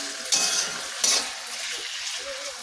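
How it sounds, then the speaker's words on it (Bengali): Chicken curry spices fry in a pan with a soft continuous sizzle, broken by two louder scraping stirs of a spatula and light metal clinks. "ভাজা ভাজা করে নিব মশলাটা দিয়ে।"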